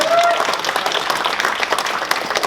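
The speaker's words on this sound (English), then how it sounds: "let's give him a round of applause to Robert J. Moore" Audience applause for Robert J. Moore at an entrepreneurial talk, a dense steady wash of many hands clapping throughout, with a brief voice or cheer near the start.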